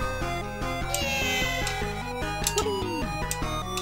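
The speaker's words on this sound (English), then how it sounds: "Right, now we have a cat!" A cartoon cat meows in the Amiga game Slightly Magic, a short rising-and-falling mew over continuous chiptune background music.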